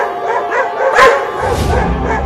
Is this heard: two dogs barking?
yes